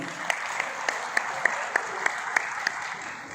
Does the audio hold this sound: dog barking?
no